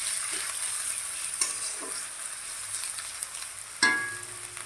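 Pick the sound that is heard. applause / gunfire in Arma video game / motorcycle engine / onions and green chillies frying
onions and green chillies frying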